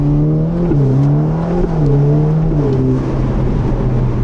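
A Ferrari Roma Spider V8 engine and exhaust as the car slows, a loud steady droning growl heard up close with small shifts in pitch, no talking over it.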